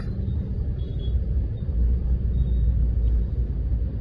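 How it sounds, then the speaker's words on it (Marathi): Road traffic in Pune rumbles on as a steady low drone of passing vehicles, fairly close and continuous with no talk. "पुण्यातलं ट्रॅफिक बघा"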